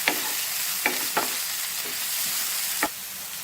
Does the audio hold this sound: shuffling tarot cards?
no